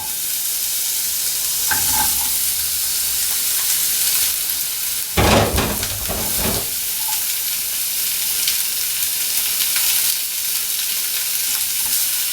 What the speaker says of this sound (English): now we're going to lightly cook the onions.